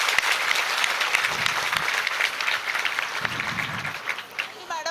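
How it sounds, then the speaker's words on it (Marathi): An audience at a women's conference applauds loudly and steadily, a dense wash of clapping that carries on throughout. "जोरदार टाळ्या आपल्या सगळ्यांसाठी."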